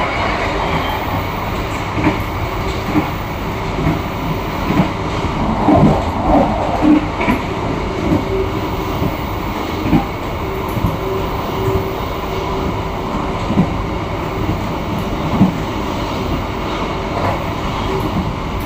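The KA Malioboro Ekspres passenger train rolls along the rails with a steady, loud rumble and faint clickety-clack of wheels over joints, heard from inside and continuous throughout, without speech.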